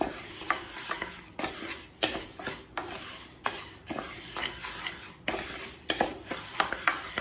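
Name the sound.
dry roasting and stirring moong dal in a pan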